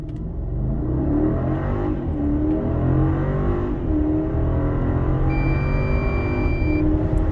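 A Maybach GLS 600 with a 4.0 V8 pulls away from a standstill in Maybach mode, its engine note rising in a steady, loud drone that persists throughout, with gear-shift dips and a faint electronic whine near the end.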